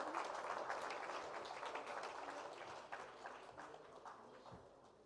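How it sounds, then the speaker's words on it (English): Sustained applause from a conference audience at an India–Latin America and Caribbean business conclave, dense rapid clapping filling the room, loud at first and gradually thinning toward the end. "Yes, the claps, applause should keep coming."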